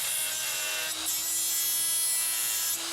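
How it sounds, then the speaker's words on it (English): A deburring tool scrapes the sharp edges of a cast engine block opening near the oil pan; a steady, close, continuous rasping and rubbing with no pauses, accompanied by a constant tonal hum. "cleaning up, deburring the little sharp edges off"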